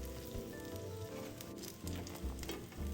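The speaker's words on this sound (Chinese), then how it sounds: "起锅前20秒，开高火，逼出饼皮多余油分" Chive pies frying in oil in a pan over high heat, a steady close sizzle with crackling pops and faint stirring or scraping throughout.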